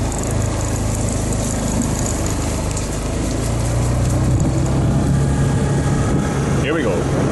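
A scooter engine revs up and accelerates on a ride in Thailand, a steady mid-pitched motor drone with road and wind noise throughout, rising in level toward the end.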